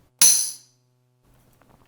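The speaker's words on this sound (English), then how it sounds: "you can hear what it sounds like with no reverb. It's just a tambourine hit." A single dry tambourine hit from an Alesis Sample Pad 4, bright and jingly, decaying quickly with no trailing echo; faint rustling follows near the end.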